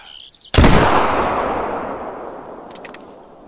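A single muzzleloader rifle shot in the hunting video game theHunter: Call of the Wild booms loudly and close, then rolls off in a long decaying echo over a few seconds.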